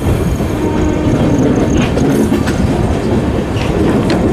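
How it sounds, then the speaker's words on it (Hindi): A train hauled by an ALCO diesel locomotive rolls into a station on an Indian railway line, a loud continuous rumble of wheels and clattering carriages that holds steady throughout, with no voices. "बस अराइवल चल रहा है मोतीबाग का एल्को लोकोमोटिव"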